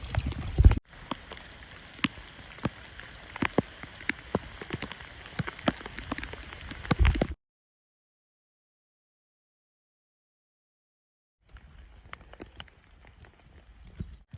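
Steady rain patters on a surface out on the Appalachian Trail, dense and close with sharper drop hits, then stops dead for several seconds before a fainter patter returns.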